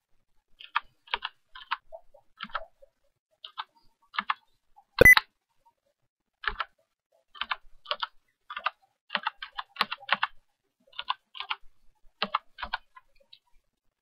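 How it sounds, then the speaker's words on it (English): Keys clatter on a Corsair Vengeance K95 mechanical keyboard as an email address is typed, in quick bursts of close clicks separated by short pauses, with one sharper louder click partway through. "we have to click the G1 button again and just type the email address"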